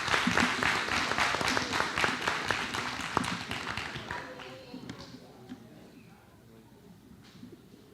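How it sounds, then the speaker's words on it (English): Audience applause at a school board of education meeting, dense and steady for several seconds before thinning and fading into a quieter room. "Please give them another round of applause"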